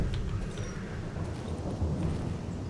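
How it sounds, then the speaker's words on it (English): Steady rain with low rumbling thunder in the Darkwood survival horror game, a continuous dense wash with deep rolling booms underneath. "Oh, rain."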